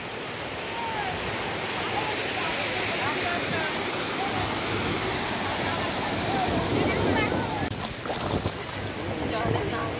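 Sea waves wash in at Digha beach in a continuous broad roar of surf, loud and steady, with heavy wind buffeting the microphone and faint voices in the background.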